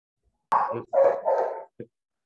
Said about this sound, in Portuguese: os cachorros estão latindo agora aqui